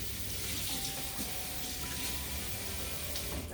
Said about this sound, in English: Now let's rinse the blade out.